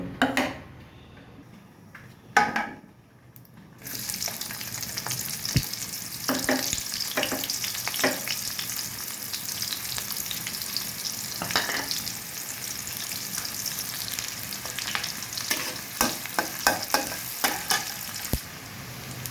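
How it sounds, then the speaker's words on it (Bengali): Onion and green chili frying in oil in a wok (kadai) for an egg and potato curry: a steady sizzle, broken early by a short quieter gap, with scattered clinks and scrapes of a utensil stirring. "এবার আমি কড়াইতে পেঁয়াজ কাঁচামরিচ দিয়ে দিব।"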